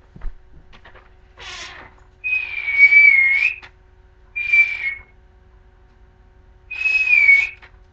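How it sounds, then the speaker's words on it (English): A person whistles to call a dog outdoors: four separate whistled calls, the middle and last ones long and sliding, with short pauses between them and no talking. "I'm going to go whistle for my dog."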